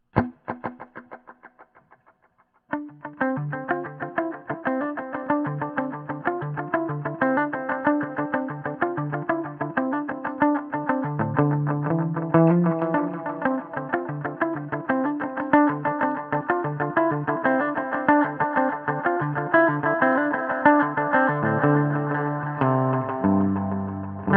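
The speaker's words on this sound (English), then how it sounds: "I'm going to throw on some Echorec here" Clean electric guitar chords through a Hiwatt Crunch 150R amp head, with repeating Echorec tape echo trailing each note and a wash of modulation, playing steadily without any talk.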